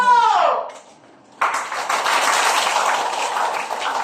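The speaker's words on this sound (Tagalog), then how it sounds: "Palakpak na dahil na po." An audience claps together in a classroom demonstration-teaching session, with steady dense applause filling the second half after a brief spoken voice and a short pause.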